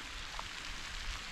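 Steady rain falls outdoors by a dam walkway, a continuous close hiss of drops on surfaces with no voices.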